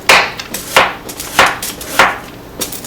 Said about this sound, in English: and then you slice them kind of thin, like a 1/4 inch thickness or even less, with the skin and all